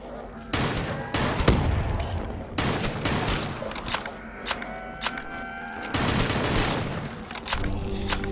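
Rapid bursts of gunfire from a Call of Duty zombies custom map called Henge ring out in clustered volleys, with sharp repeated shots and short pauses between sustained firing over continuous game noise.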